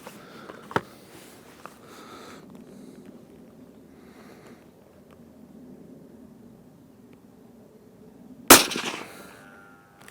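A Seekins Havak Pro Hunter 2 rifle in .308 fires a 150 grain bullet at a 100-yard range with a single sharp, loud report after a quiet outdoor lull, followed by a brief echo.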